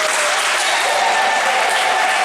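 Wedding guests burst into loud, dense applause up close, with high trilling ululation cries ringing over the clapping throughout.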